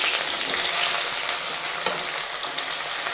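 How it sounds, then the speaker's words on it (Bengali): Chopped onions drop into hot oil with cardamom, cinnamon, cloves and dried red chilies, setting off a dense, steady, close sizzle that holds loud and even for the whole stretch, without any talk. "এবার এর মধ্যে কুচনো পেঁয়াজ দিয়ে দিচ্ছি।"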